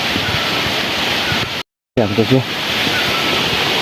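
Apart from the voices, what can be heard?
waterfall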